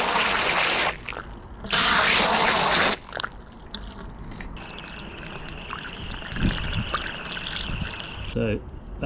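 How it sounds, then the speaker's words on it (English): Water pours in bursts then trickles and gurgles steadily through a Mercedes SL roof drain tube, close by, with a few handling knocks and no talking. "Try pouring some water in just to make sure that it runs out"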